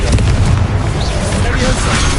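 A Confringo explosion spell in Hogwarts Legacy erupts as a dense, loud booming blast that fills the whole moment with rumbling low-end noise, mixed with a voice.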